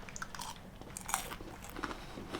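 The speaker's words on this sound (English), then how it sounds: "And then the chicken, it's got a crunch" Crunchy bird's eye chilli chicken stir fry being chewed, a run of close, quiet crunching bites with irregular rhythm and no talking.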